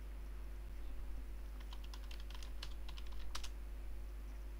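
Quick keystrokes on a computer keyboard as a command is typed into a Minecraft server, a burst of light clicks in uneven rhythm, faint and close over a steady low hum.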